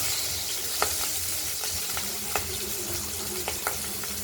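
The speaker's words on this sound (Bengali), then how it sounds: "মাছগুলো ভাজা হয়ে গেছে, আরও কিছু মাছ ভাজা আছে, সেগুলো ভেজে নেব।" Continuous sizzle of pabda fish frying in oil, with a few sharp crackles and pops scattered through it, close and steady with no talking.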